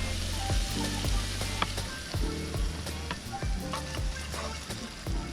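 Eggs sizzling and crackling steadily in a hot pan at a campsite in Nakhon Nayok, Thailand, with occasional clinks of a utensil against the pan.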